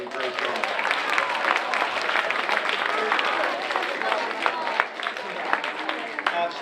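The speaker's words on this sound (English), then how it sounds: "how about a nice round of applause for all our teachers today?" Audience applause for teachers at a school scheduling presentation, a steady wash of many hands clapping at moderate loudness, with cheering or voices mixed in throughout.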